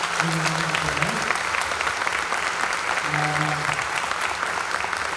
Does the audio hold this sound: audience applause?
yes